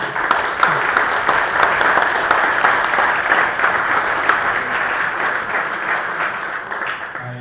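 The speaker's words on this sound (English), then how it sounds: "So, gentlemen, one more round of applause for these guys." A conference audience at the GeoGebra Gathering claps in a sustained, even round of applause that holds steady for several seconds before tapering slightly at the end.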